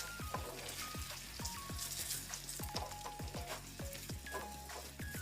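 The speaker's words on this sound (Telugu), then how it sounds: "ఇప్పుడు దీనిలో మనం కట్ చేసి పెట్టుకున్న ఉల్లిపాయ, పచ్చిమిరపకాయ, కరివేపాకు వేసుకోవాలండి. ఇప్పుడు వీటిని మనం బాగా వేయించుకోవాలి." Chopped onion, green chilli and curry leaves frying in oil for a tomato onion curry, with a soft steady sizzle and crackle and scattered light spatters, faint and close, no voices.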